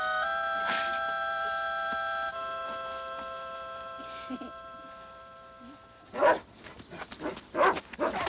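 A dog barks in short bursts in a wilderness camp setting at night, first faint and distant under sustained tonal music, then several louder, nearer barks toward the end.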